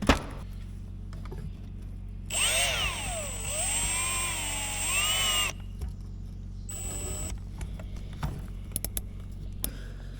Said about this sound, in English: I'm just pulling on the drill right now, sucking the valve into the seat tight